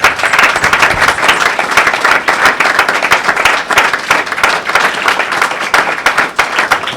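An audience at a Father's Day service claps loudly and steadily for several seconds, a dense, sustained wash of many hands with no speech over it.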